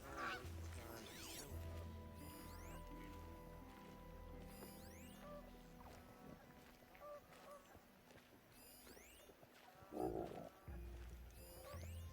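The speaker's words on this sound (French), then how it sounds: "Ce sont des oies, j'ai confondu une oie et une dinde." Geese honk faintly in the distance in the open world of Horizon Zero Dawn, a few brief calls rising over quiet ambient music and background game sounds.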